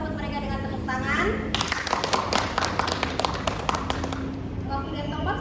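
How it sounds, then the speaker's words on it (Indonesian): Scattered clapping from an audience welcomes a community health centre team before their roleplay on infectious and non-infectious diseases. It comes as a burst of close, sharp claps lasting a few seconds, with speech just before and after. "Sebelumnya mari kita sambut mereka dengan tepuk tangan."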